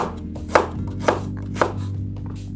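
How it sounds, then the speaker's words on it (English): Three sharp knife chops into unpeeled ginger on a cutting board, evenly spaced about half a second apart, close and clear over a low steady background hum. "I'm going to chop my ginger"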